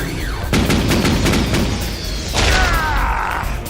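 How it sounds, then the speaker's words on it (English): Rapid bursts of cartoonish blasts and booms as Transformers animated robots fire pulse cannons and missiles in quick succession, layered with whooshing streaks and a high whistling tone, loud and close. "Firing missiles!"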